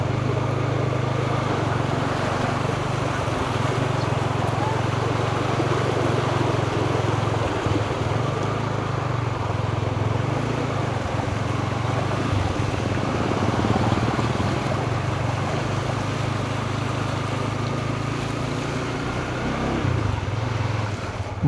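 Strong floodwater current rushing in Barangay San Agustin, a steady broadband roar of moving water mixed with wind buffeting the microphone, continuous and fairly close with no clear talking.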